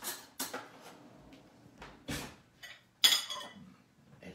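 Metal spoon clinking against dishes while serving oysters Rockefeller, a few sharp scattered clinks and clatters, close and fairly quiet.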